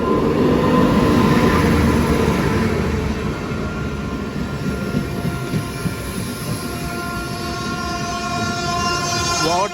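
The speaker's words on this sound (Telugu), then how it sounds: "ముంబై గోరఖ్పూర్ ఎక్స్ప్రెస్ పక్క ప్లాట్ఫామ్లోకి వస్తుంది." Mumbai Gorakhpur Express pulls into the adjacent platform with a loud, steady rumble of wheels and carriages, and high squealing tones build toward the end.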